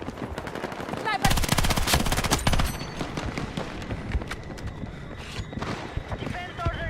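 Rapid bursts of SMG fire from a first-person shooter match ring out close and loud, with dense automatic volleys early on, then scattered shots and game effects beneath ongoing player chatter.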